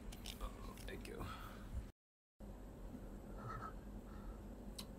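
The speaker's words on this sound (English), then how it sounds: "Hold on, I need to chew." Someone eats spicy Indonesian food such as bakso and rendang at a warung in London, with soft close-up chewing and biting sounds, brief whispery mouth noises and a short silent gap partway through.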